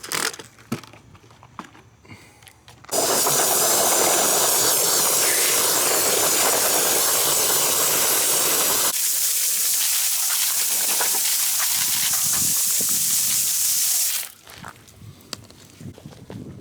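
Degreaser is sprayed onto three-piece car wheels in a long, steady, close hiss lasting about eleven seconds. Its tone shifts partway through, with quieter handling noises before and after.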